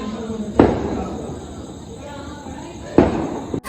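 Two sharp firework bangs, about two seconds apart, stand out over a steady murmur of crowd noise and distant rumble.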